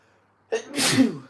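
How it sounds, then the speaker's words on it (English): A single sharp sneeze, close and loud, preceded by a brief sharp intake of breath. "I have a sneeze coming."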